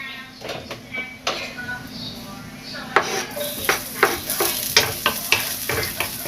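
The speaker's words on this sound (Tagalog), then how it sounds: "And then, magigisa na tayo." Sizzling sauté in a frying pan, with frying hiss rising midway and repeated sharp clinks and scrapes of stirring against the pan, close and moderately loud, no talk.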